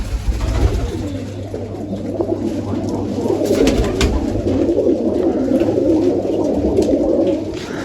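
Pigeons coo in a kabootarbaji loft, with repeated soft, throaty calls that overlap into a steady murmur close at hand, loud and continuous until near the end.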